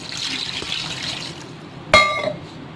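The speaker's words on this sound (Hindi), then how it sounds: "6 गिलास में पानी डाल के इसको गलाने के लिए रख दूँगी" Water poured into a pot of mutton trotters for paaye, a soft trickle and splash with a sharp metallic clink near the end, fairly close and without speech.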